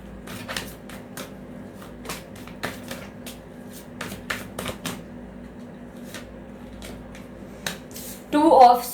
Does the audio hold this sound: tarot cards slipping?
yes